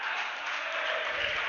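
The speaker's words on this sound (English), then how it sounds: "The crowd are getting involved in this now." A cricket crowd at a cup-grade match claps in a steady, dense wash of applause that holds evenly from start to finish, with no talk over it.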